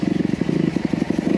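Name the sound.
Honda CRF250R motocross bike engine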